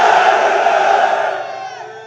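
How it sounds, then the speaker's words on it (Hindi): A large crowd at a political rally roars the slogan Naara-e-Takbeer in unison, a loud, sustained massed shout that holds for over a second and then tapers off. "ऐसा जोरदार नारा लगाना। नारे तकबीर, नारे तकबीर, नारे तकबीर।"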